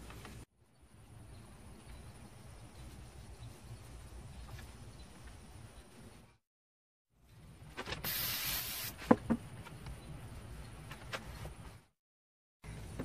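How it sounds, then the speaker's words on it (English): Short hissing burst of spray adhesive being applied to fabric for a lampshade, heard outdoors at low level amid faint background rustling and a steady high insect-like tone. "I'm going to spray this and glue that together now."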